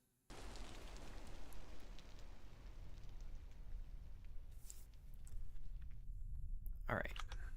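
Steady rain pattering against windows in the Vintage Story game, a dense continuous hiss starting abruptly after a brief silence and holding level, with a short brighter rattle near the end.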